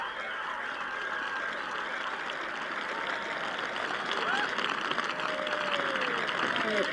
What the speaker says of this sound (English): we had 2 sets of applause here at 12. One for Nicklaus's birdie, the other for Raymond Floyd making his way to the 12th tee